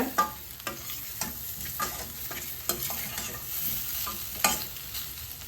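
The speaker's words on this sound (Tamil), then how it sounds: "சேர்த்துட்டு நல்லா மிக்ஸ் பண்ணி விட்டுக்கோங்க. இந்த எண்ணெயிலே நல்லா ரோஸ்ட் ஆகி வரணும்" Baby potatoes coated in masala roast in oil in a pan, with a soft steady sizzle under irregular stirring knocks and scrapes of a spoon, close and moderately quiet.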